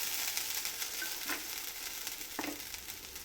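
Ground mint chutney paste sizzles in hot oil with popped mustard seeds, a steady hiss broken by a couple of scraping stirs of the spoon.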